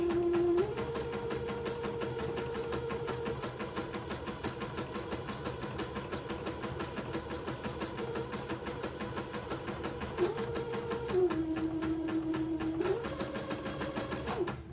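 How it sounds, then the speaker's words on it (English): A sewing machine zigzag-stitches edging lace onto a handkerchief, a steady mechanical whirring hum running continuously with slight shifts in pitch, close and alone without talk. "I'm gonna start zigzagging this edging lace to the handkerchief."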